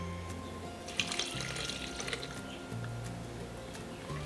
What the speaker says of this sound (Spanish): Y a esta mezcla le vamos a añadir medio litro de agua.